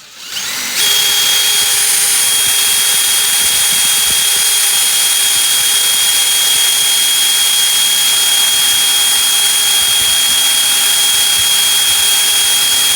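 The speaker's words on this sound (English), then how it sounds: "I'm going to turn and drill the hole on the bias." A power drill whines steadily at close range boring through fiberglass on a Cobra 427SC replica, a loud, continuous high-pitched drone that holds without pause for the whole stretch.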